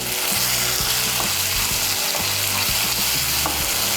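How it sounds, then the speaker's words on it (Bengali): Ginger, tomato, green chilli and garlic paste frying in hot oil for an egg mouri dish, a loud dense sizzle throughout with repeated scraping and stirring knocks, close up and without voices. "আদা বাটা, টমেটো বাটা, কাঁচা লঙ্কা বাটা আর রসুন বাটাটাকে তেলের সঙ্গে মিশিয়ে নিয়ে একটু ভেজে নিয়েছি।"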